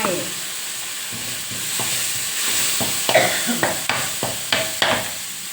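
Garlic stir-frying in a pan for squid with holy basil, with a splash of water added; steady sizzling under repeated scraping strokes of a spatula against the pan, close and continuous.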